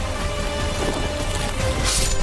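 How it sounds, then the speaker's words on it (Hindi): Heavy rain pours steadily during flooding in Gonda, Uttar Pradesh, a dense, loud, continuous hiss of water falling on surfaces with no pauses and no talking. "हर तरफ बाढ़ बारिश का कोहराम देखने को मिल रहा है।"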